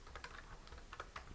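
Soft, quick keystrokes tap on a computer keyboard in an irregular patter of light clicks, quiet and close, with no voices.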